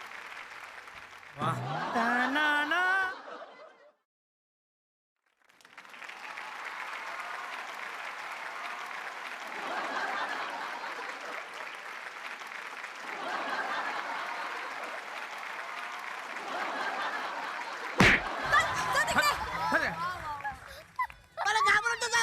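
A studio audience at a Marathi comedy show applauds in a long, moderately loud wash of clapping that swells and fades, after a brief spoken exclamation and a short silence, with voices talking over parts of it.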